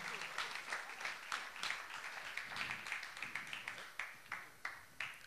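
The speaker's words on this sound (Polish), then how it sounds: "Duże brawa." Audience applause at a Polish national music review awards presentation: dense, fairly quiet clapping that thins into a few distinct claps near the end, with faint voices mixed in.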